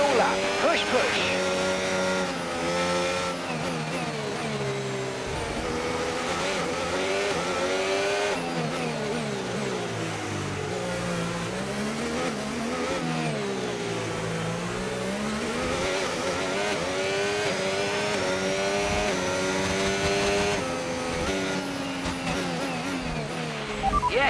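F1 race cars in the F1 25 video game on a final lap, with a continuous high engine whine rising and falling through gear changes and corners, and a voice speaking over the engines.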